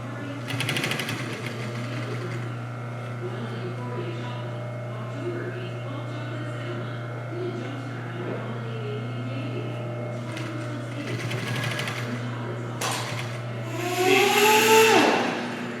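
An electric sewing machine stitches four layers of classic car headliner fabric at once, running with a steady close mechanical whir and hum throughout, rising louder near the end, while a person talks over it.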